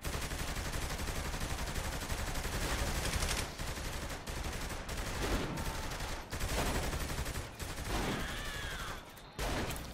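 Gunfire in Saints Row: The Third rattles in dense, continuous volleys of rapid automatic shots, loud and close, with a few brief gaps between bursts.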